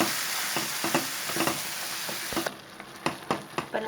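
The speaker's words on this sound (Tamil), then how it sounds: "இது வந்து இந்த எண்ணெய் மிதந்து வர அளவுக்கு இது நல்லா கொதிக்க விடணும்" Steady bubbling and sizzling of mutton chops gravy boiling in a pan, with occasional scraping stirs of a spoon, close and continuous without voices.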